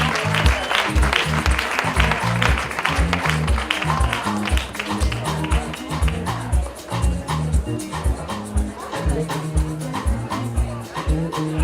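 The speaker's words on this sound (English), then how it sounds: "Round of applause for Josephine, ladies and gentlemen." Crowd applause at a medical centre opening in Kibera, Nairobi, with rhythmic clapping mixed with other noisy activity and some voices, loud and busy throughout.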